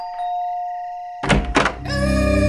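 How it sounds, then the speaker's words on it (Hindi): A sustained electronic doorbell chime rings, followed by a couple of heavy thuds and then another ringing tone. "मैंने डोरबेल बजाई।"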